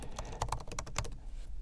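Quick, close clicking of keys typed on a MacBook Pro laptop keyboard with stiff, shallow key travel, a brief burst of rapid taps that slows and fades.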